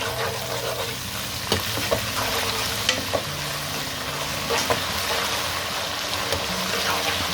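Steady sizzling of ginger and garlic frying in a pan for chicken biryani, with occasional scrapes and clicks of a spoon stirring through it.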